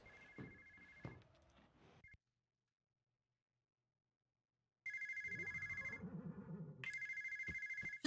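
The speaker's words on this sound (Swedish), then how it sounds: "Nu ringer en telefon, så vi måste springa och svara i den." An electronic telephone ring in the video game Horsez: Ranch Rescue, in repeated bursts, cutting out into silence for a few seconds, then resuming with a low rumbling underneath.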